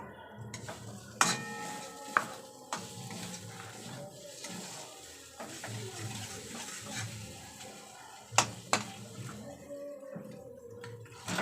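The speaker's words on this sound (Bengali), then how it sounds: "এইবার আমি ভেজে রাখা কাতলাগুলো দিয়ে দেবো" Fried katla fish pieces dropped into a pot and stirred for a fish biryani, with scraping spoon strokes, a few sharp metallic clanks and a soft sizzle running underneath, no talking.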